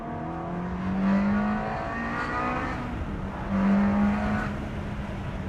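A Ferrari 360 engine accelerating hard, with two rising surges of revving through the gears, loud and close, with steady road noise between the pulls.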